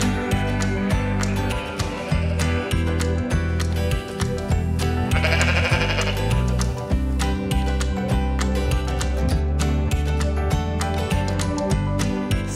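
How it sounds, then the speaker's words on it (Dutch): Sheep and lambs bleat repeatedly and loudly at feeding time on a farm. Many overlapping calls come close to the microphone in a dense, continuous chorus. "Zo, de schapen zijn gevoerd."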